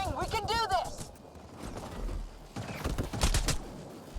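Gunfire in Mass Effect Andromeda crackles in short bursts amid chaotic combat noise, with a voice speaking over the opening and shots peaking toward the end.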